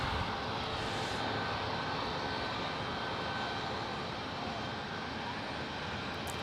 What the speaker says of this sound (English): I'm gonna watch the United crew push back this 737 MAX 9.